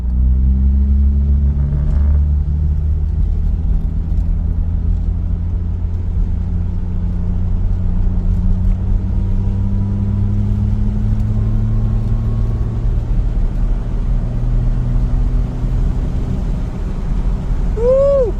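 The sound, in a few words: vintage Dodge with Fluid Drive transmission driving and shifting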